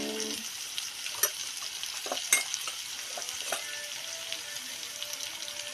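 Onions browning in hot oil in a pan for egg tomato curry, a steady close sizzle with a few stirring clinks and scrapes of a spoon.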